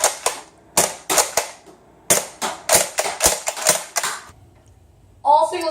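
Nerf Strongarm and Roughcut dart blasters firing, a string of sharp, snappy pops in uneven bursts and pairs, close and loud, ending in a brief stretch of quiet and a short voice.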